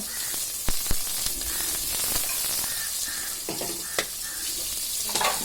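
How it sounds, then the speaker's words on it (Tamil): Sliced big onions sauté in a pan with a steady hiss of frying, punctuated by sharp spoon taps and scrapes as they are stirred, no voices present. "அந்த பெரிய வெங்காயம் இப்போ நல்லா வதக்கணும்."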